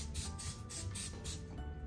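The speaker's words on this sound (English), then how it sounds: "we're gonna spray that with a bit of cooking spray and then set it aside" Cooking spray misted into a baking dish for a breakfast bake, giving several short hissing bursts in a steady rhythm, close and moderately loud with no talk over it.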